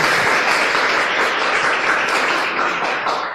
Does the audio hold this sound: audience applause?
yes